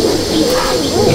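A pigeon in a loft at Andul, Howrah gives a short, loud, close coo lasting about a second.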